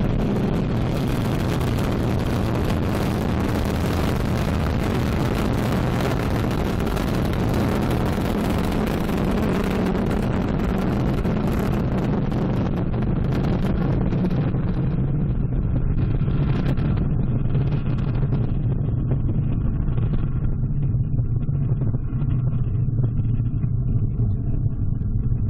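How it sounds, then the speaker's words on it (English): An Ariane 5 rocket carrying the BepiColombo mission to Mercury thunders at launch, a continuous deep rumbling roar with heavy low-end crackle that stays loud throughout and gradually loses its brighter edge as it climbs away. "Roar of her engines, a lot of fire"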